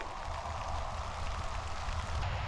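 Steady rain falling outdoors makes a soft, even hiss that holds unchanged throughout, faint and distant, with no voices.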